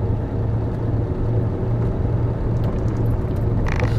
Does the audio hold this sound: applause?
no